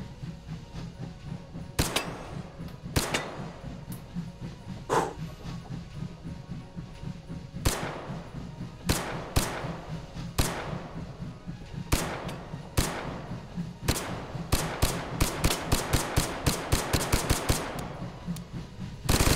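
Gunshots from a long-barreled rifle in the VR shooter Hot Dogs, Horseshoes & Hand Grenades: sharp, close single shots spaced irregularly at first, then quickening into a fast string of rapid cracks near the end.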